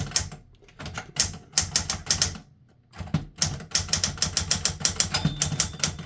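Someone types on a 1960s Smith Corona Galaxie II manual typewriter, with rapid bursts of crisp key strikes close up, broken by short pauses and a brief mechanical chime near the end.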